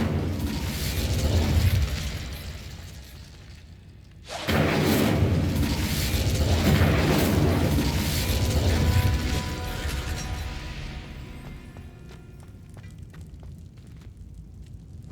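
Incendio fire spell cast in Hogwarts Legacy: a loud roaring whoosh of flame with crackling bursts, a sharp cut-off, then another sustained blaze that gradually fades into faint crackles.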